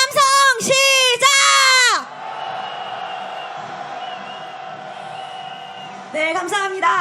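A large crowd at a Korean candlelight protest rally and march roars in a long sustained cheer, bracketed by loud, close chanted shouts at the start and end.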